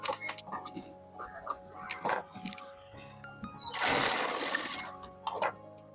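Sewing machine stitching a hook strip onto lehenga fabric, close and clear, running in short bursts of rapid ticking stitches with pauses between.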